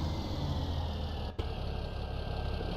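A tractor engine idles steadily, a continuous low rumble filling the stretch with one brief dropout near the middle.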